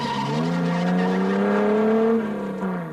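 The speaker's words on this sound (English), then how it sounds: "The Porsche is frantically trying to make up time lost further down." A Porsche rally car climbs a mountain hairpin road during the 1958 Coupe des Alpes, its engine holding a loud, steady, strained roar that rises slightly and then eases off near the end, up close and with no talk.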